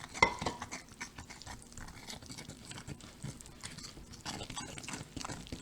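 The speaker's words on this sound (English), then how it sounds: "it will be stirred into my flour, and then we're going to make some tortillas" A utensil stirring a mixture into flour in a bowl for tortilla dough, producing close, uneven scraping and soft knocking with scattered clinks, fairly quiet and with no talk.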